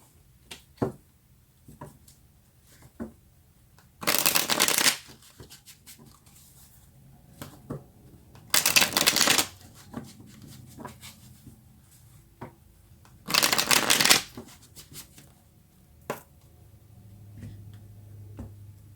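Tarot cards are shuffled in three brief, crisp riffling bursts a few seconds apart, close by, with faint taps and handling noises between them in a quiet room.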